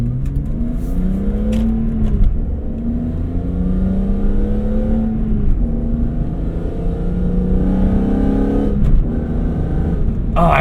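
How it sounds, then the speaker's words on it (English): A car fitted with a carbon fiber intake revs through repeated rising and falling engine pulls, a loud, close induction growl sweeping up and down in steady cycles. "I forgot how mean this induction noise was"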